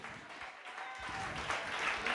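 Church congregation applauding during a worship service, a growing wash of many hands clapping, moderately distant and steady, with some faint voices mixed in underneath.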